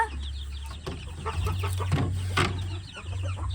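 Bantam chickens on a farm clucking in short, repeated bursts over a steady low hum, fairly close, with several birds calling at once.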